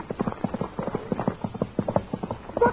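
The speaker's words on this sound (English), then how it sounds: "Here comes the horse." Hooves of a horse clip-clop in a steady, quick rhythm of sharp knocks, drawing nearer and growing louder toward the end, heard alone on a radio comedy program.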